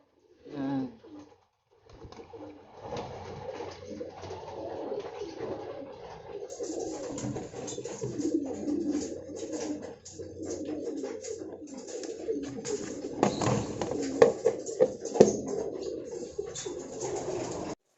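Several pigeons coo close by in a loft, soft throaty calls that overlap and build into a steady, murmuring chorus.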